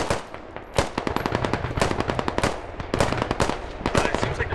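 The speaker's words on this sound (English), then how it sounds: "Machine gun emplacement up on the hill to the east." Rapid machine gun fire from an emplacement in Squad crackles in dense, loud bursts of overlapping shots that run almost without pause.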